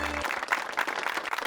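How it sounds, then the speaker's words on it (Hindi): Brief applause from a small group at a Women's Day surprise celebration, scattered clapping with a low hum at the start, fairly close and moderate in level. "तालियां।"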